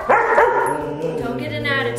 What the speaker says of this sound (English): He's an attacking puppy.